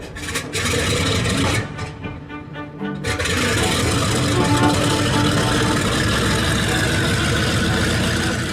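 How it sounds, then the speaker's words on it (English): Big radial piston engines of a B-29 Superfortress bomber cough and sputter into life, then settle into a loud, dense, continuous rumble heard from the flight deck. "the engines fired and sputtered into life"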